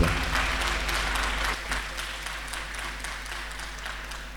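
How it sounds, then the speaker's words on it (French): An audience applauds the organising committee at a French-speaking event, a steady wash of clapping hands that fades slightly toward the end, with no voices over it. "Je vous prie d'applaudir le comité d'organisation."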